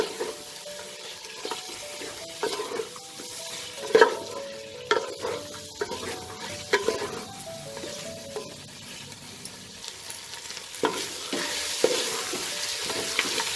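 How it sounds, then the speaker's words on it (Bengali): Mutton frying with spices in a pot for Awadhi-style yakhni pulao: a continuous sizzle broken by repeated scraping, clanking stirs of a spoon, close and fairly loud, with no talking. "মাটনটা 2-3 মিনিট আমার মশলার সাথে ফ্রাই করা হয়ে গেছে"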